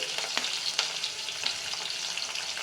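Dried red chillies, broken by hand, sizzle and crackle in hot oil for tempering gongura, a steady frying hiss broken by a few sharper pops.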